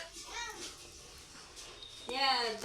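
A house cat meows close by indoors: a short call at the start, then a louder, drawn-out meow near the end, with quiet room noise in between.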